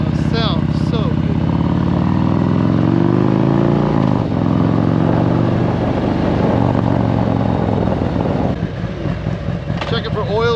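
Harley-Davidson 114 engine fitted with a Woods WM822-XE cam runs loud and close, its revs rising and falling in a choppy, lumpy rumble as the bike rolls off, with no one talking.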